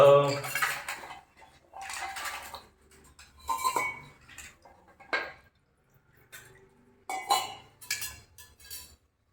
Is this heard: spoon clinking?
yes